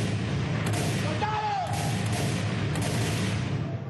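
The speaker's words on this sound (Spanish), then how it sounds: "¡Esos disparos son nuestros!" Gunfire in a staged war scene at an outdoor commemorative ceremony: three sharp blasts about a second apart, loud against a dense wash of crowd and amplified noise, with voices underneath.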